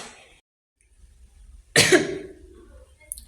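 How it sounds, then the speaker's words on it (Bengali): A woman coughs once, close and loud, in a short harsh burst with a trailing rasp, set against an otherwise quiet room. "এত পরিমাণ কাশি হচ্ছে কি বলবো"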